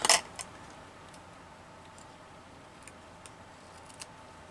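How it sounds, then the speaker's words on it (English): Scissors cutting craft paper: one loud, sharp snip at the start, then a few faint, sparse clicks of the blades in a quiet room. "Let's use these scissors."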